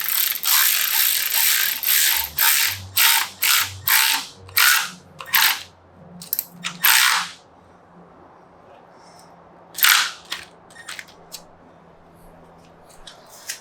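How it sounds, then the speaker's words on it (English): A ratchet with a 10 mm socket tightens an SC-Project exhaust bolt on a 2022 BMW S1000RR, giving quick bursts of sharp, close clicking strokes, a rapid run of them, a pause, then a few more clicks. "we will take our 10 millimeters and tighten this up."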